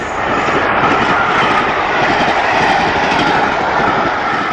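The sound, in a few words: British Rail Class 46 diesel locomotive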